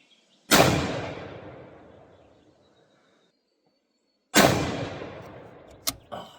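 Two loud, sharp shots from a Tikka 6.5 Creedmoor precision rifle, each followed by a long echoing decay outdoors, spaced about four seconds apart, with a few small clicks after the second shot.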